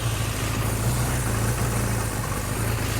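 A Suzuki GS750 motorcycle engine idles steadily at about 1,500 RPM, a continuous low, slightly lumpy rumble that holds close and even throughout with no voices.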